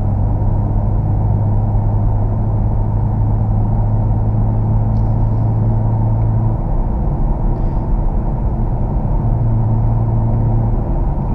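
A 2018 BMW M2 Coupe cruising at steady speed, a constant low engine drone with tyre and road rumble filling the cabin, the hum holding one pitch throughout without talk.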